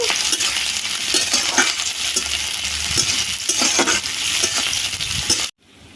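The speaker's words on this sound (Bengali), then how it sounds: "পেঁয়াজটা আমার বেশ লাল লাল করে ভাজা হয়ে গেছে" Onions and chopped green chillies sizzle and fry steadily in hot oil while being stirred, with occasional spoon scrapes against the pan. The sound stays close and continuous until it cuts off abruptly near the end.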